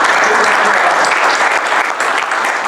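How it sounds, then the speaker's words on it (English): Loud, dense applause from a convention audience at a business session, sustained and even throughout with no break. "So we actually ought to give him a round of applause and his team."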